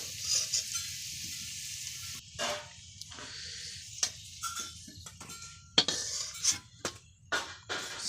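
Crab pieces frying in hot oil in a pan, a steady sizzle with intermittent scraping and stirring clatter from a utensil, close and moderately loud throughout.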